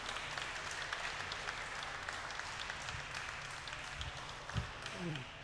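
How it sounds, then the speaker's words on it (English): Steady applause from an audience for a glassblowing hot shop crew at a live demonstration, a fairly even wash of clapping running the whole time with a few low thumps near the end. "Can we give another round of applause to our hot shop crew down here?"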